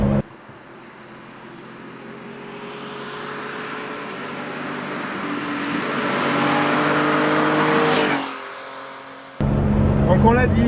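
Porsche 911 S (2021) engine sounding from inside the car while driving, a steady, building mechanical drone that rises in loudness over several seconds, then drops abruptly before a brief louder burst at the end.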